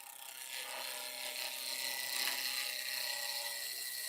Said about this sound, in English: So peeling cut, get up to speed a little bit.